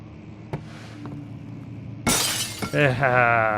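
In the horror game Amnesia: The Dark Descent, a glass barrier is smashed: a sudden, loud, bright crash of shattering glass bursts in midway after quieter clicks and thuds, followed by sustained tonal game sounds.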